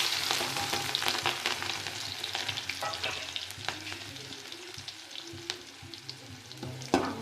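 Cumin, onion and chili fry in oil in a kadhai, a close dense sizzle that gradually softens, punctuated by scattered clicks and scrapes of stirring and a final sharp knock; nobody speaks.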